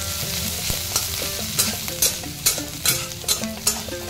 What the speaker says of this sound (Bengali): সবগুলো আরেকবার ভেজে নেব।